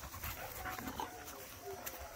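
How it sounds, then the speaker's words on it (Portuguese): A loose dog pants in rapid, soft breaths close by, mixed with faint whimpering and a steady background hum, while people talk nearby. "Cara, a cachorra conseguiu soltar"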